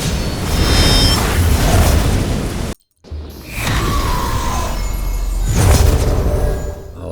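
Explosive splintering arrows from the Yumi bow in Shadow Warrior 2 burst as loud, rumbling booms that fill the clip, broken by a sudden near-silent gap before the blasts roll on again.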